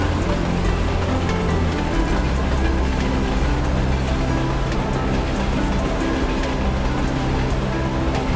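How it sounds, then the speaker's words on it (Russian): A long freight train rumbles by continuously, a heavy, steady low drone with a grinding mechanical hum that never lets up. "а поезда, это сам товарняк, вот навстречу еще один идет"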